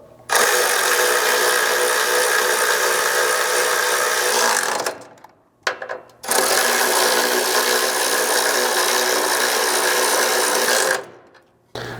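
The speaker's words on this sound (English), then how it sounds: "we can tighten up our hardware using a 14 mil socket, a 13 mil socket, and a 1/2 inch socket" Continuous loud mechanical whirring and clicking of a socket ratchet tightening bolts on rock sliders fitted to a 4th Gen Tacoma frame, in two long runs separated by a brief pause.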